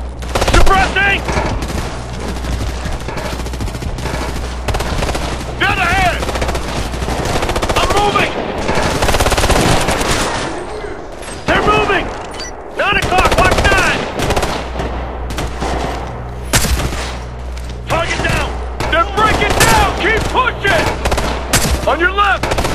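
Assault rifles and other gunfire in a Ghost Recon: Future Soldier firefight, with loud, dense bursts of automatic fire and single shots rattling almost nonstop, mixed with shouted squad callouts.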